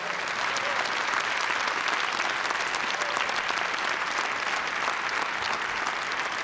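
Warm applause at a national music award ceremony: dense, even clapping from a large audience, steady and loud throughout with no pauses.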